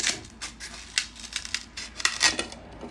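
Scissors snip through material for a succulent ring arrangement, giving a series of close, crisp cuts at an irregular rhythm, with no talk.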